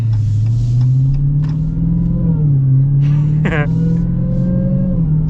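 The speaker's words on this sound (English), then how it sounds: "you gotta love the sound of a supercharged V8" Supercharged V8 of a Dodge Challenger Super Stock factory drag car rumbling loud and close, the steady deep note rising and falling slightly, with someone talking over it and a short sharp squeal midway.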